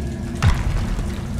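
A Confringo spell blast in Hogwarts Legacy, a single short deep boom with a brief burst, set against a continuous low rumble of game ambience.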